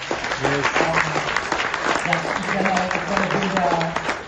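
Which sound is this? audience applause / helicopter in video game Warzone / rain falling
audience applause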